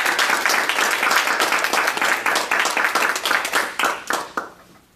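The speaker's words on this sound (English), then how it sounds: "Let's give a warm applause and welcome to Joe Jones." A hall audience applauds to welcome a speaker with loud, dense, sustained clapping from many hands that tapers off over the final second.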